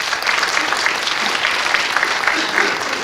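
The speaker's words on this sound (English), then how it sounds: "let's give her a round of applause" Applause from an audience at an awards-style gathering, dense steady clapping filling the whole stretch, loud and close without any break.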